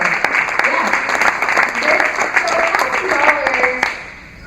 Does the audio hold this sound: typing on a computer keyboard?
no